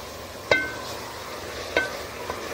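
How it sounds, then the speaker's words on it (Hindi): Chickpeas frying in hot oil in a pressure cooker, a soft steady sizzle broken by a few sharp metallic scrapes of stirring, close and alone without talk. "अब चनों को हम फिर से प्रेशर कुकर में डाल के भून लेंगे।"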